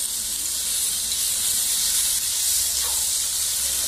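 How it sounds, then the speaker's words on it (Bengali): Chicken skins sizzling in hot spiced oil in a pan, a loud, steady frying hiss that runs unbroken with no talk. "মশলা থেকে তেল ছেড়ে গেছে, এই সময় ছালগুলোও দিয়ে দিলাম।"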